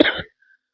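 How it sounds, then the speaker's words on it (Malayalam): One harsh, close cough from a man, short and loud, followed by near silence. "ചുമച്ച് ഞാൻ ചാകുമെന്ന് തോന്നുന്നു"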